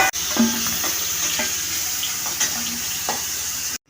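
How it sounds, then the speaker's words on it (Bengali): Pointed gourd (potol) pieces stir-fry in oil in a pan, a steady close sizzle broken by repeated scraping knocks of the spatula. "পটলটাকে হালকা করে একটু নাড়াচাড়া করে নিচ্ছি পটলটাকে বেশি ভাজলে হবে না"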